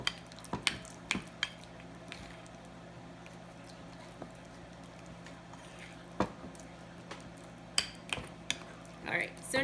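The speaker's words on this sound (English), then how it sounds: "and then mix everything together" A utensil scrapes and clinks against a bowl in scattered strokes, close and quiet, with soft sticky mixing sounds between them.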